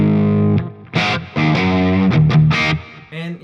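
An electric guitar solo played through a Friedman IR-X and a Fractal FM3, sounding loud and distorted with chorus-like effects, as sustained notes and bends in expressive phrases with brief pauses between them.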